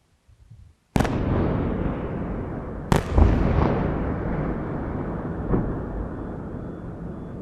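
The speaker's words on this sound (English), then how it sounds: "You'll see these Russian ballistic missile strikes." Ballistic missile strikes explode over the Kyiv skyline near a hotel: a sharp blast cuts in from near silence, a second heavy boom lands about two seconds later, and a long rolling rumble with fainter thuds trails after.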